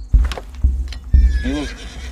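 A horse whinnies loudly and close, a rising then wavering neigh, preceded by a few heavy hoof clops on hard ground.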